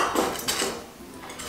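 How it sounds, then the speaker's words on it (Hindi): Flaxseeds, with chana dal, tipped into a hot dry pan for roasting, a brief close clatter and rattle of seeds and metal. "हम सबसे पहले ये फ्लैक्स सीड डाल देंगे, अलसी का बीज डाल देंगे, चना दाल डाल देंगे"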